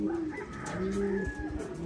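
Pigeons arriving at a loft coo softly nearby, low throaty calls repeating over a faint background of outdoor noise.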